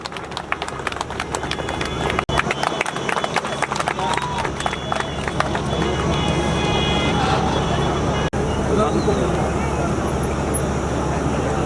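A crowd gathered at a Karn Samaj community event in Morena claps to welcome the Mahant. Dense, rapid applause fills the first several seconds, then gives way to steadier crowd noise, with voices talking throughout.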